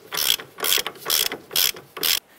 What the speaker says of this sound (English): Let's go ahead and tighten up this upper control arm ball joint nut.